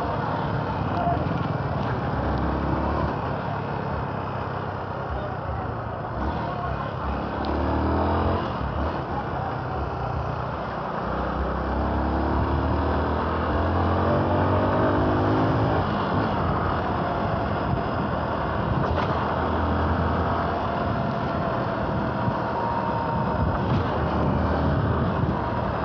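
A Yamaha XTZ Crosser 150 motorcycle engine drones steadily while riding over a rough dirt road, with wind buffeting the microphone and someone talking over it.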